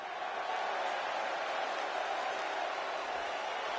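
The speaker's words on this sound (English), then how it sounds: "And you can hear the crowd." Wrestling crowd at a tag team title event in Brooklyn cheers and chants as one continuous, dense roar of many voices, steady and fairly loud throughout with no break.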